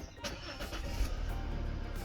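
A Volvo XC60 D3 diesel engine cranks and catches after its fuel system is reprimed, a brief, fairly quiet start with a rough low churn rising over a couple of seconds.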